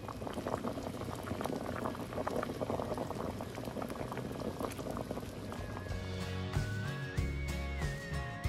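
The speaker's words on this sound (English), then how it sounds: "we will show you what that looks like when it comes to a boil and we get all that tomato soup incorporated in there" Tomato soup sauce for marinated carrots bubbles at a steady boil, a dense close crackle of popping bubbles throughout, with a faint tonal whine and low thumps toward the end.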